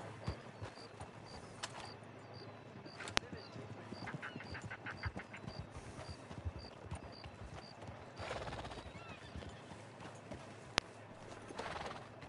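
A horse in Red Dead Online trots and gallops in a running clip-clop with a whinny partway through. Game effects and a brief vocal sound come and go around the close hoofbeats.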